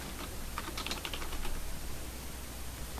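Quick bursts of typing on a computer keyboard, soft close key clicks in a short rapid run, with no talking.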